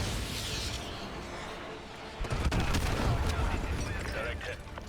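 Call of Duty: Modern Warfare 2 (2009) Remastered, Contingency mission: soft, scattered gunfire cracks sit under a constant noisy game ambience, growing denser and louder in the second half.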